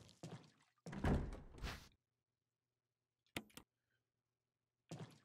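A door opens in Resident Evil HD: a brief thunking clunk with a short follow-up knock, standing apart from surrounding bursts of talk and fairly quiet against near silence.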